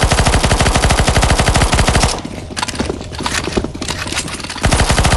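Loud, rapid automatic gunfire hammers away at zombies in CS:GO zombie escape mode on the ze_ffvi_oblivion_castle map, a dense machine-gun stream that drops off briefly into scattered shots and noise before the sustained burst resumes.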